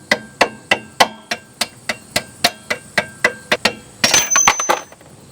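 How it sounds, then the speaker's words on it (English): A rubber mallet strikes a brake caliper bracket bolt on a 2008 Hyundai Elantra 2.0L in a steady series of about fifteen close, sharp knocks, followed by a brief clattering of metal parts. "using a rubber mallet, I'm going to work that bolt back"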